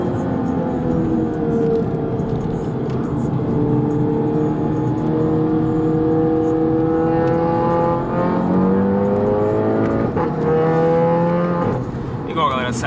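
A 2016 Audi TT accelerating hard, its loud, close engine note climbing in pitch through several rising sweeps as it pulls through the gears.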